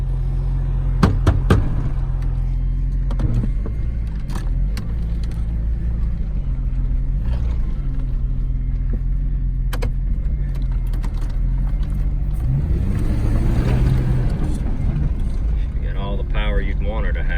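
An old Jeep Wagoneer rescued from a scrapyard drives in second gear, a steady low engine drone with road and wind noise throughout, engine pitch rising near the end, and someone talking over it.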